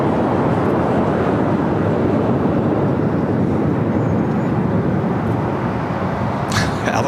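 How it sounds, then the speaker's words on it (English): Dreamliner jet on its takeoff roll at LAX, heard from a distance as a steady, broad engine roar that holds throughout, with a brief higher hiss near the end. "we got that United Dreamliner now rocking and rolling down"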